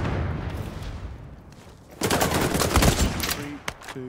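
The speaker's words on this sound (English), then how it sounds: "Where am I getting shot from?" Gunfire in the shooter game XDefiant: quiet ambience, then at about two seconds a dense burst of rapid shots erupts close and loud, followed by a few scattered cracks.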